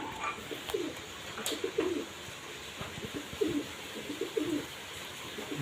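Repeated soft pigeon coos, low and throaty, recurring in a steady rhythm over faint background hiss.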